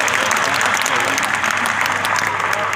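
Audience at a Kumar Vishwas poetry gathering claps loudly and continuously, a thick, unbroken wash of applause throughout.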